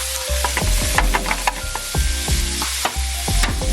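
Hamburger meat sizzling in a hot pan for tacos: a steady close-up frying hiss broken by repeated scraping and stirring strokes of a utensil.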